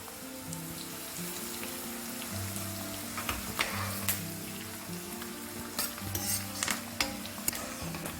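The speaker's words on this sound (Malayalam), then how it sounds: "അതിൻ്റെ പുറകെ നമുക്ക് കറിവേപ്പില ഇട്ട് കൊടുക്കാം" Curry leaves and garlic crackle in hot oil for homemade mango pickle, a close bubbling sizzle with scattered sharp pops and stirring, and a low hum running beneath.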